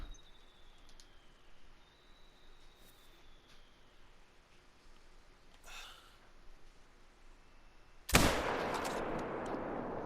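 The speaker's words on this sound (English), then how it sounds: "I may have rushed that shot." A single sharp, loud .270 rifle shot fired at fallow deer outdoors, bursting out suddenly after a long quiet stretch with faint birdsong and a few soft sounds, its report lingering and decaying over the final seconds.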